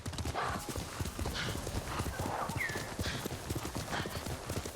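Horse hooves in Ghost of Tsushima beat a steady, fast galloping clip-clop, close and loud throughout, with a brief whinny partway through.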